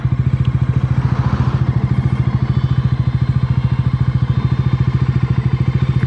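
A motorcycle engine on a ride across countryside by fields, loud and close with a steady, rapid pulsing idle-like thrum that holds evenly throughout.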